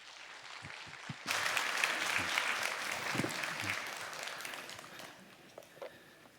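A church congregation gives warm applause to welcome the pastor, clapping that breaks out abruptly after a quiet moment, swells, then slowly fades to a few scattered claps.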